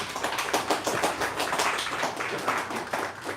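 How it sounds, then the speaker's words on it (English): Audience applause at a museum journal launch in Barbados, a lively patter of many hands with some individually distinct claps, fairly close and continuous. "Let's give him a round of applause."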